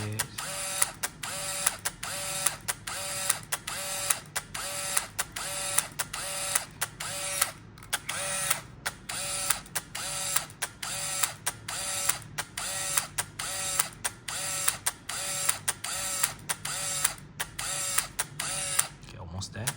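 Konica MT-7 film camera motor winding film: a steady train of rapid whirring and clicking cycles repeating about once a second, close and mechanical, with no talking heard.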